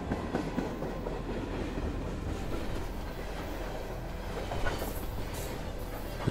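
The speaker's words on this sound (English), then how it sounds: "The train now enters the village through a short tunnel" A passenger train rolls steadily toward a village through a short tunnel, giving a continuous low rumble with soft rhythmic clatter and occasional faint squeals. The sound stays even and moderately close, with no voices.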